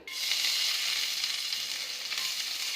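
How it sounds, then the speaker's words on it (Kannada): Garlic dropped into hot ghee for vegetable soup, a steady close, bright sizzle and hiss of frying that holds evenly throughout with no talk. "ನೋಡಿ, ಈಗ ಗಾರ್ಲಿಕ್ ಹಾಕ್ತಾಯಿದ್ದೀನಿ"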